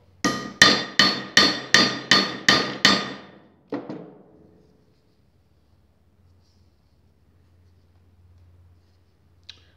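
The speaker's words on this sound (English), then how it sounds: "You can continue bradding it until you feel no sharp edges on the rivet itself." Rivets on a rider buckle being set and bradded with a hammer: seven sharp, evenly spaced blows close up, then a single later strike and quiet.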